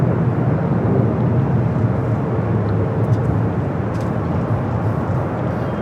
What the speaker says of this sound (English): Next arrival here on the north side, Southwest, flight 3329, a 737 MAX 8 coming in from Reno.